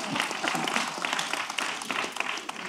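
An audience at a Black history celebration claps in a steady wash of applause from many hands, moderately loud and sustained throughout.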